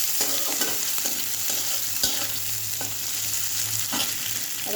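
Garlic fries in a hot pan with a steady sizzle, while a utensil scrapes and stirs it in scattered strokes close by.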